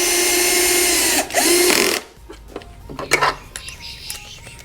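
A power drill drives screws into the battery case of a Merits Roadster scooter, a loud continuous whine for about two seconds, then quieter clattering and handling noises.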